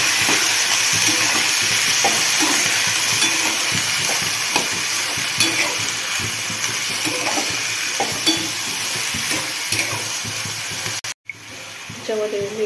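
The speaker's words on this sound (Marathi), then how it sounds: "मला चांगलं असं हलवून घ्यायचं।" Walachi bhaji being stirred as it fries in a pan, with steady sizzling and scraping strokes running throughout, close and fairly loud, and a short break near the end.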